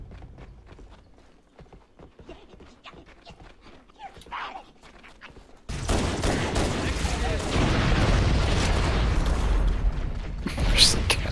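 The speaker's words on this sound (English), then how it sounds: "There's a cascade of explosions." Explosions and gunfire from the co-op video game Halo: Combat Evolved, a sudden burst of dense, loud blasts and rattling fire that follows quieter clicking and rustling and continues at high intensity to the end.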